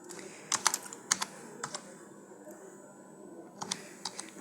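Typing on a computer keyboard while cataloguing in the Koha library system: quiet, irregular keystroke clicks in small clusters over a low background hum.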